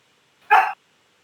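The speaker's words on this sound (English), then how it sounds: "Oh, that's a dog barking." A single short dog bark, clear and isolated against silence, lasting about a quarter of a second.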